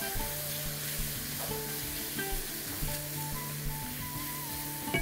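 Chopped peppers with chili and cumin frying in oil in a pan, a steady close sizzle with faint stirring scrapes, while tonal background music plays underneath.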